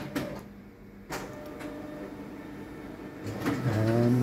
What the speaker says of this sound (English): And the print will pop out on the right hand side.